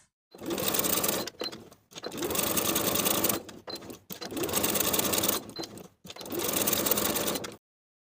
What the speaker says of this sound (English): Sew with a 3/8 inch seam allowance.